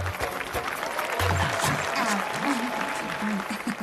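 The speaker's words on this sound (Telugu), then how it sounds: "కొట్టండి రా చప్పట్లో" A crowd in a village gathering applauds, with dense clapping running throughout while people talk and music plays underneath.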